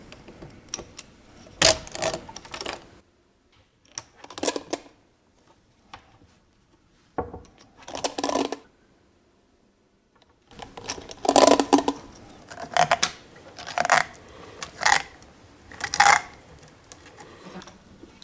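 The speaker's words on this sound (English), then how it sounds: "we start to pull out the nylon cord as we wrap it around the feeder" Nylon cord being pulled out and wrapped around an outdoor antenna feeder cable during weatherproofing, heard as bursts of scratchy rustling and brisk pulling noises separated by short pauses, close up with no talking.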